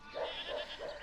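A young goat on a farm bleats three times in quick, wavering calls, fairly close and clear over faint outdoor background noise.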